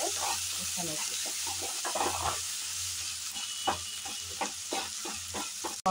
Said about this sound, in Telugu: పసుపు కూడా యాడ్ చేసుకుని ఒకసారి మొత్తం ఇలా కలుపుకున్నాక